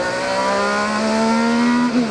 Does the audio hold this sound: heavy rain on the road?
no